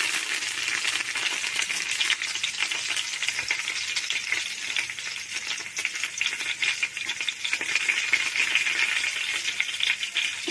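Curry leaves drop into hot tempering oil for a moong dal rasam, giving a dense, continuous crackling sizzle close up, full of fine popping and spattering, with no voices.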